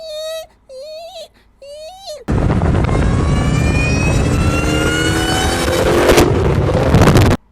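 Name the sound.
Dodge Hellcat Redeye engine roaring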